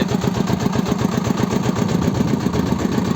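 A small tractor engine, heated up while weeding a pumpkin field with a rotary tiller, runs continuously at a steady idle, a rhythmic chugging rumble close by with no voices.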